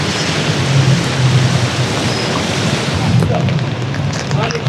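Steady rain falling outdoors near Edinburgh Castle, a loud dense hiss that fills the scene without pause, with a few faint voices under it.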